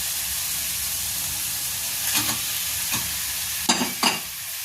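Vetki fish fillets are stirred gently in a hot pan with sauce over a low, steady sizzle, with a few soft scraping strokes and clinks of the utensil against the pan.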